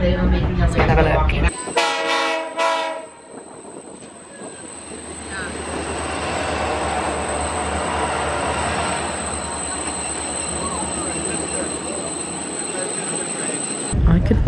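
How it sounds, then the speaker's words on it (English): A passenger train passes close by another train on a scenic line through the Canadian Rockies, a loud sustained rumble of wheels with a bright steady squeal and a brief horn-like burst near the start, opening and closing on other sounds. "We're about to pass the sister train."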